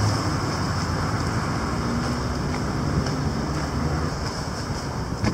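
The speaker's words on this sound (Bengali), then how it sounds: "সানি ওয়েদার তবে একটু উইন্ডি বাতাস আছে অনেক" Strong wind blows on a sunny day along a street on the way to a tram stop, a loud continuous rush of wind noise buffeting the microphone throughout, with no voices.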